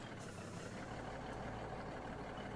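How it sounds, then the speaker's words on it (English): Low, steady truck engine rumble from the Farming Simulator 17 game, idling or straining quietly at a logging site, a constant drone with no speech. "And I've got the truck stuck."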